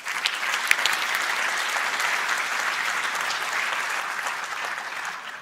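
Sustained audience applause fills an opening session of a national space conference hall, a dense steady wash of many hands clapping at even loudness, with no voices standing out.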